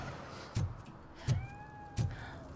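A cat meows three times in the RoboCop Rogue City game demo, evenly spaced, fairly close and clear, each call short and rising against low game ambience.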